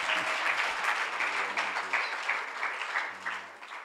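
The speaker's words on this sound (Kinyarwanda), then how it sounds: "Amashyi ku mwami Yesu." A church congregation claps together during a sermon, a dense and steady burst that fades toward the end. Brief low tonal sounds cut in and out beneath the clapping.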